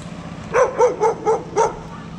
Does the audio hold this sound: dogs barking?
yes